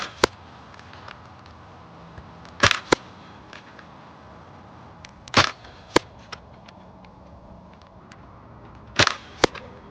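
Zuru X-Shot Turbofire toy blaster firing darts, heard as a few sharp, loud snapping shots in short clusters spaced a few seconds apart over a quiet background.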